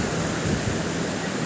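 Strong waves wash in at Coronacion Beach in Real, Quezon, a broad continuous roar of surf mixed with wind buffeting the microphone, close and steady.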